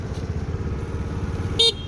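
A Suzuki Lets scooter engine idles with a steady low putter, then a single short horn beep sounds close by near the end.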